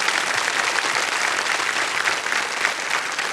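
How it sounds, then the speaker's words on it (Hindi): Studio audience on a Hindi quiz show, Kaun Banega Crorepati, gives loud, sustained applause for a contestant from Jodhpur, Rajasthan, a thick unbroken roar of clapping from start to finish. "एक बार जोरदार तालियां फिर से बज जाए इनके लिए"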